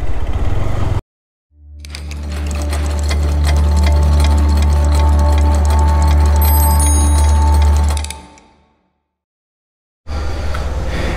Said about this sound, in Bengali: ওকে এটা GPX demon one sixty five GR এটা একটা টেস্ট রাইড দিয়ে দেখি কেমন